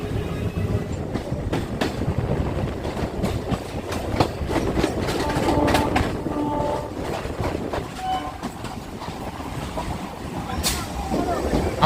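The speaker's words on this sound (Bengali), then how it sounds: "আমাদের ট্রেন এবার প্রবেশ করলো সোদপুর রেল স্টেশনে" A Ranaghat–Sealdah local train rumbles and clatters steadily over the tracks entering Sodepur station, rhythmic clicks repeating, loud and close, with a brief horn-like tone.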